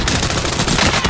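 A rapid burst of automatic gunfire rattles in Call of Duty Warzone on Rebirth Island, loud and dense for about a second.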